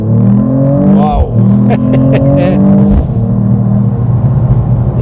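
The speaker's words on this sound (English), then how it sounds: "this vehicle is capable of a very quick acceleration" A 2025 Mercedes-Benz E53 AMG hybrid accelerating hard, its engine note rising and shifting through gears in a steady loud drone, with speech over it.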